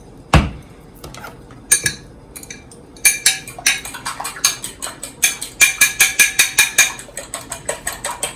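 Eggs being whisked with a dash of milk, salt and pepper in a bowl for an omelette, with a few scattered clinks that build into a rapid, rhythmic run of close metallic taps against the bowl.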